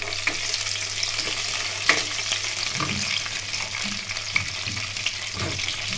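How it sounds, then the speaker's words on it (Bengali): Carrot, long beans, raw banana and other vegetables frying in a pan for Bengali sukto, a loud, close, continuous sizzle with occasional soft clinks and stirring scrapes. "গাজরটা ভালো করে ভেজে এর উপর একটা একটা করে আমরা সবজি দিয়ে দিচ্ছি"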